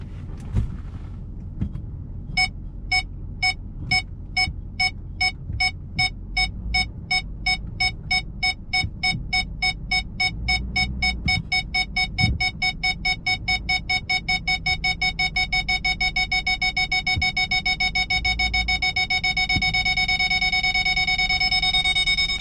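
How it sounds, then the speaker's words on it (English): A 2005 Nissan Titan truck's reversing buzzer beeps in a rapid, regular series that grows steadier and louder, over a low engine rumble with occasional thuds. "So I'm gonna back up now to see if it beeps."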